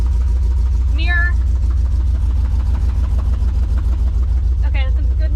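An LS-swapped Jeep engine idles steadily and loudly up close, a continuous low rumble throughout with a faint squeak or voice popping over it twice.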